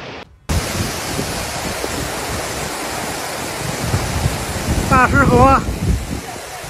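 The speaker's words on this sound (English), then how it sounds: "heavy rains in Mentougou district caused flash flood and washed away a large number of cars" Loud, roaring rush of flash floodwater after heavy rains in Beijing's Mentougou district, a dense broadband wash of noise, with a brief wavering tone, like a voice or horn, near the end.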